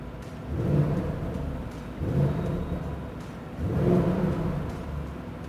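An Audi V8 engine revs in three swelling bursts of deep, rumbling roar, with a steady low hum between them, heard alone in a showroom setting.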